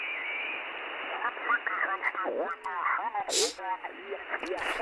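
Mistuned voice signal on an amateur radio transceiver, a garbled, warbling speech sound squeezed into a narrow band with odd pitch-shifted tones and brief bursts of static.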